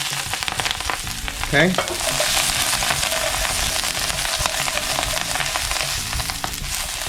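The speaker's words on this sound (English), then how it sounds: "They're gonna sizzle, they're gonna crackle." Brussels sprouts hitting smoking-hot olive oil in a pan, a loud steady sizzle and crackle with a burst of spattering near the start, continuing evenly throughout; one brief word spoken.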